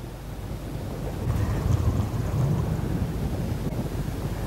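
Wind blowing across a recently flooded grassy lakeside, a steady rumbling gust buffeting the microphone, swelling slightly midway, close and fairly soft with no voices.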